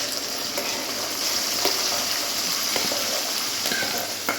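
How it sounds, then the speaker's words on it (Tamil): Ground tomato paste for tomato pickle is poured into hot oil with cooked garlic, sending up a close, continuous sizzle and crackle with a few small clicks and no talking. "இப்போ நம்ம அரைச்சி வச்சதை ஊற்றிக்கலாம்."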